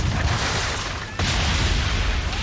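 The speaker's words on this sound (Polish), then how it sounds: "Dobra salwa." A ship's cannon salvo in Assassin's Creed 3 lands as one loud, broad boom partway through, set against continuous rumbling sea and wind noise.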